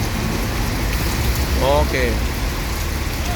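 Heavy rain falls outside a bus at a Palembang ticket office in an unbroken hissing wash of drops, while a voice speaks briefly over it near the middle.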